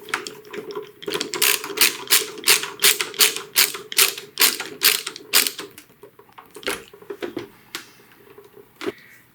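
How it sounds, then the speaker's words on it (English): A screwdriver ratchets in quick, regular clicks while Original Xbox case screws are driven back in, close and clear, then slows to a few scattered clicks and taps. "Put the screw in and replace these 4 screws."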